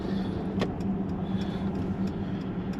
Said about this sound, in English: here we go, driving the GLC43